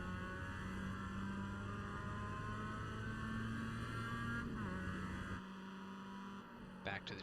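Mazda MX-5 race car engine at Lime Rock in the iRacing sim, a steady droning engine tone with a pitch dip near the end as it slows through a corner, fairly faint and continuous.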